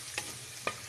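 Steady close sizzle of garlic cooking in hot melted butter, with two brief stirring scrapes cutting through the hiss.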